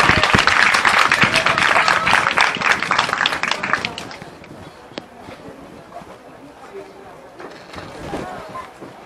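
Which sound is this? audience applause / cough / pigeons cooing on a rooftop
audience applause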